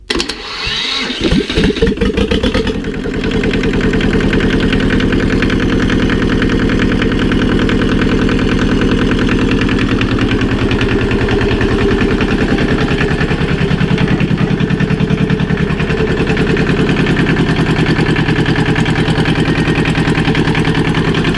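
A Lister Petter LPWS2 diesel engine cranks with uneven starter turns, then catches and settles into a loud, steady running clatter that holds close and constant for the rest of the clip.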